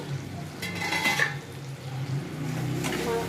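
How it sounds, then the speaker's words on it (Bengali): A lid comes off a cooking pot of tangra fish curry (tangra macher jhal), with a couple of brief metallic clinks and scrapes over a low simmering background, close and moderately loud. "এবার আমি ঢাকাটা খুলবো।"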